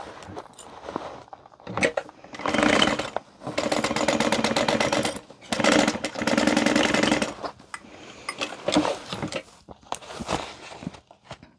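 A sewing machine stitches a Mr. Heckles handbag in several runs, two long bursts of rapid needle chatter in the middle with shorter, quieter runs before and after.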